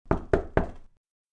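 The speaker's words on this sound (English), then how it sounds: "she heard the knock on the door" Three firm knocks on a door in quick, evenly spaced succession, close and distinct, then silence.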